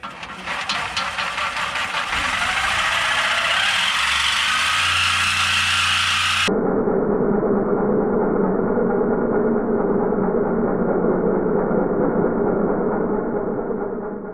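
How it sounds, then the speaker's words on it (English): Power cutting tool sawing through the stock muffler pipe of a 2019–2020 Chevrolet Silverado 5.3L exhaust, a loud continuous grinding rasp that drops to a lower, steadier mechanical drone partway through, with no talk. "the first step is to cut the muffler off, but right there's the flapper, so we're going to cut right before that"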